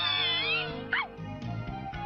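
A rescued cat meows in a cartoon scene, a few high, wavering cries followed by softer, lower mewls, close and clear with no talking over them.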